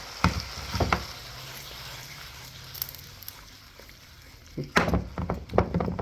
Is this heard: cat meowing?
no